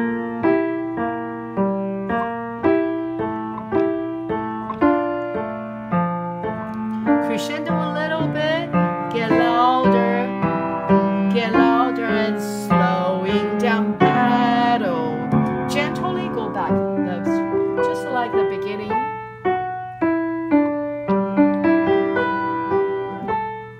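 Solo piano plays a beginner piece, with clear close melody notes over a steady low held bass, at a moderate even tempo throughout and no talking.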